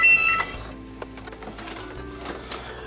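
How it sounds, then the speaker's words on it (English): A heat transfer printer running off a sheet of transfer paper, with mechanical whirring, clicks and carriage movements in an irregular rhythm, close and clear without talk. "I've just reset the printer, and we're now printing out one of the transfer papers"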